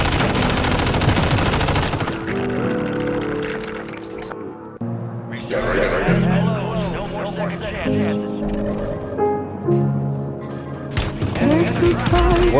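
Video game gunfire rattles in rapid dense bursts at the start and near the end, with music and talking voices running underneath.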